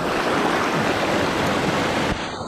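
Steady, loud rush of creek water just below a waterfall in the Caney Creek Wilderness of the Ouachita National Forest, a dense continuous roar heard close by with no voices.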